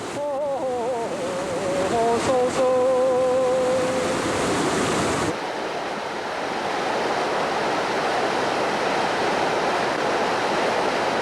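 Chilyeon waterfall in a Muju valley gorge gives a steady, dense rush of falling water, heard alone after an opening stretch where a voice chants over it.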